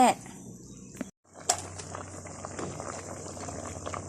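Bamboo shoot curry broth bubbles at a low simmer in a pot, a soft continuous burble after a short pause and a clatter, with a voice talking over it.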